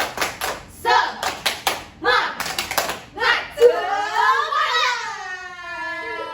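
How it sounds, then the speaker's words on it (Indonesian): A group of kindergarten children performs a rhythmic spirit clap routine, sharp bursts of clapping in quick patterned runs, then their voices rise together in a sing-song chant at close range. "Yuk kita tepuk semangat dulu yuk."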